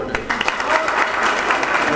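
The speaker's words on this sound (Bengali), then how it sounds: "করতালি।" Applause from a crowd at an election meeting of a Sylhet motor workshop mechanics' union, steady clapping filling two seconds with dense broadband texture and a faint voice underneath.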